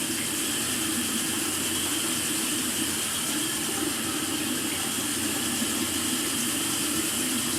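Tap water runs steadily while someone rinses after shaving, a continuous, even hiss and splash close by with no talking.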